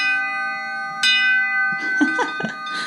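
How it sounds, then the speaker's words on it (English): An old doorbell in a dated house chimes with a sustained ringing tone and a second struck note, followed by faint clattering and shuffling nearby. "check out this doorbell."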